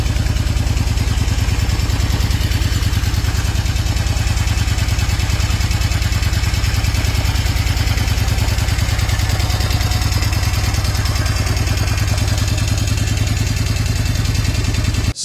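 A vintage Norton Commando motorcycle engine runs steadily and loudly throughout, a dense, close, rumbling beat that holds an even level with no talk over it.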